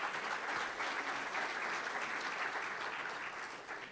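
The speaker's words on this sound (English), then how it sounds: "Now we can clap." Audience applause at the Hawaiian Gardens State of the City event, a steady dense wash of many hands clapping throughout, moderately distant and even, easing slightly toward the end.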